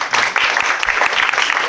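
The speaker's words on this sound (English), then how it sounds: "So quick round of applause for Annie." A live audience at a tech talk for startup founders and VCs breaks into applause, a brief, dense burst of clapping that fills the short moment without any speaking.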